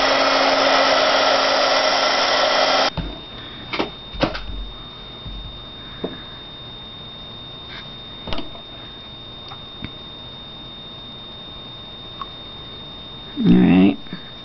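A handheld hair dryer blows on a fresh coat of paint, a loud steady whoosh for the first three seconds that then cuts off, followed by quiet scattered taps and small handling noises and a brief rustle near the end.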